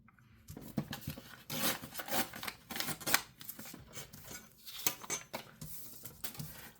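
Paper envelope being cut and torn by hand during crafting, a series of close, dry rustling rips and snips in uneven bursts, fairly quiet, with no talk.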